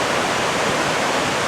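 A waterfall where Talapus and Olallie creeks merge, flowing down slope toward I-90, roars as a steady, dense rush of water close by with no other sounds.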